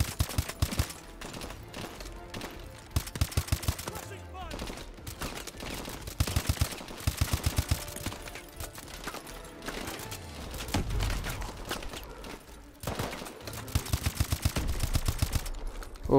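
Dense automatic gunfire in Call of Duty Advanced Warfare, the Bio Lab mission, with rapid bursts and single shots over a busy background of explosions and mechanical effects, loud and continuous.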